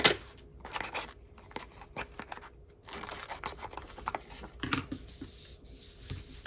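Scissors cut through a sticker sheet with several sharp, crisp snips and scratchy paper rasps, some short and some drawn out, heard close by in a quiet room.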